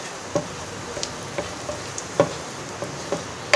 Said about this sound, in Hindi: ये कलियां जो लहसुन की हैं उसको मैंने बारीक काट लिया है। इससे मैं तेल में पका लूँगी थोड़ा।